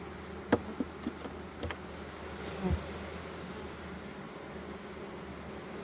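Bees buzz steadily throughout a honey harvest, a continuous insect drone with a few brief knocks and clicks near the start.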